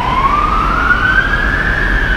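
An ambulance siren wails loudly and steadily near an apartment fire in Abu Dhabi, its tone rising slowly over a constant rumble of traffic.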